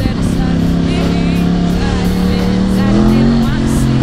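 A 2011 Yamaha R1 sport motorcycle engine pulls hard under acceleration, a loud, steady, close roar with rising pitch across the whole stretch, while a voice speaks over it.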